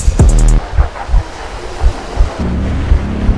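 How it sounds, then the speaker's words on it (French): Wind buffets the microphone over rolling ocean waves at a high seaside cliff edge, with loud low gusts and periodic surges of surf breaking nearby. "Juste le bruit du vent, des vagues et les battements de mon cœur"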